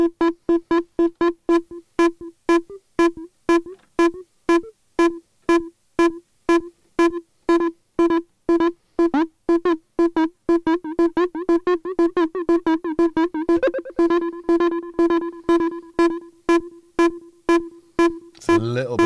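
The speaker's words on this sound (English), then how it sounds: "That's the sound of the hysteria going through the eudaimonia." A slightly distorted modular synth voice, an oscillator run through a filter, pulses in a steady rhythm of repeated notes. The pulses shift into a continuous, sweeping tone partway through, then fall back into sharp rhythmic stabs.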